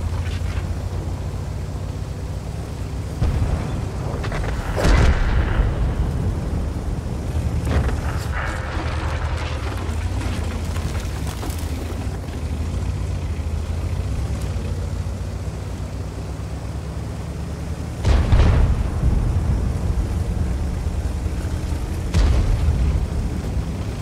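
Artillery explosions in the World of Tanks video game: deep booms over a constant loud engine rumble, with a couple of stronger blasts standing out from the steady din.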